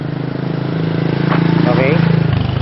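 Motorcycle engine running ahead near White Beach, a steady mid-pitched putter that gradually grows louder, with a voice talking over it.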